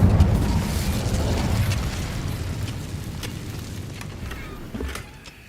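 Incendio fire spell cast in Hogwarts Legacy, a loud roaring burst of flame at the start that slowly fades into a crackling, hissing tail with a small flare near the end.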